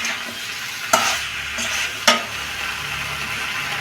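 Vegetarian papaya curry being stir-fried in a pan: a steady, close sizzle with two sharp scraping strokes of a spatula against the pan. No voices are heard.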